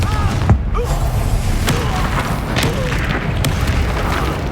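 A Confringo blasting-curse explosion in the video game Hogwarts Legacy, a loud broadband boom with sharp crackling bursts over continuous battle noise, and a speaking voice faintly under it.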